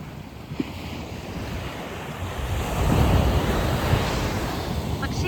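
Ocean surf roars steadily as waves break on the shore, a broad wash swelling louder midway, mixed with wind buffeting the microphone.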